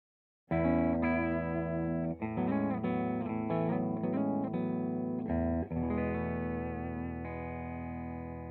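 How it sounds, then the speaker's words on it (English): A Suhr Classic S electric guitar on its bridge humbucker plays a run of chords and single notes with a bright, slightly distorted tone and chorus shimmer, ending on a sustained ringing chord. "we'll start just on our first position, which is just our bridge humbucker there"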